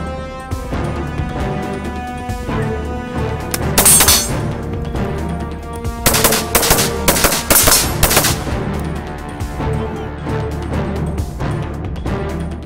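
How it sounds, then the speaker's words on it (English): Gunfire from a shooter working a Nautilus rotating rail demonstration, loud sharp shots in bursts and single cracks with rapid clusters around the middle, over a constant low mechanical hum, no talking. "This allows the shooter to return fire downrange at an additional target, this time with lethal force."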